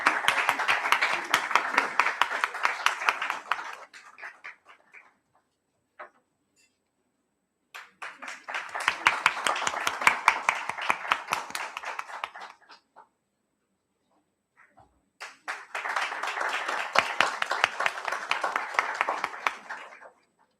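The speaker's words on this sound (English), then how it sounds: "Could we have a huge round of applause?" A seminar audience breaks into three separate bursts of hand clapping, each lasting several seconds and separated by short silences, moderately loud and close.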